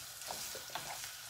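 Food frying in lard on high heat, a steady close sizzle with soft stirring and scraping sounds over it, no voices.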